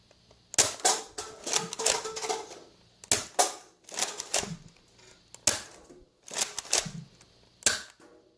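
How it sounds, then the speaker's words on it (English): A Nerf Rough Cut 2x4 blaster fires darts in a run of sharp, close snaps, about eight shots in uneven pairs and singles separated by brief pauses and priming clatter. "Here's the rough cut firing."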